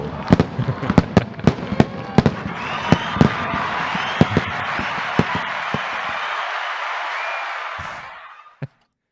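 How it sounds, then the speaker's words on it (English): Fireworks sound effect for the Fourth of July, sharp popping cracks scattered over a sustained crackling hiss that fades out, ending with one last bang. "I got a little fireworks we can play right now"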